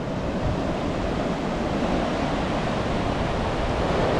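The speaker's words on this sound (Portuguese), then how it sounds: "Fica um pouquinho aí com o som do mar." Ocean surf on the south coast beach at Itanhaém heard from nearby, a steady, loud wash of waves and wind noise without breaks, no one talking.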